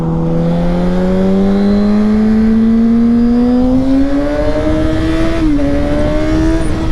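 A 2022 Kawasaki ZX6R 636 KRT motorcycle rising in pitch as it accelerates, with a brief dip around one smooth gear shift before the engine climbs again; loud and steady under wind noise, no talking.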